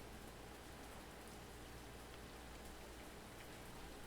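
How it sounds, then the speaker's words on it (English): Steady, soft rainfall in the video game Ultimate Fishing Simulator 2 hisses evenly throughout with no other sounds, a constant wash of drops falling on surfaces. "If you sit on a map for a couple minutes, a lot of times you start getting some rain."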